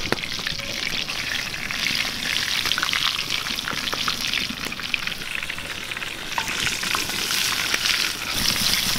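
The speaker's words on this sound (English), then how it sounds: "wait for the oil to boil up, and then the fillets will be ready to get put on" Bass fillets frying in hot boiling oil, a steady bright crackling sizzle with scattered pops, close and continuous throughout with no talk.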